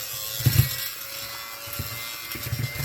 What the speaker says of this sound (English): I want to hoover up the mess